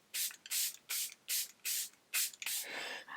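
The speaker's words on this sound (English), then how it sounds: "This is her Airbrush Flawless Setting Spray." Several quick bursts of Charlotte Tilbury Airbrush Flawless Setting Spray misted close by, about seven short hissing pumps in a steady rhythm, the last one longer and trailing off, with no talking.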